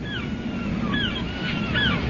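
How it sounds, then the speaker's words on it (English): Ocean waves beat against a shore in a steady broadband wash, with faint gull-like cries gliding over the surf. "I listened to the waves beating against the shore."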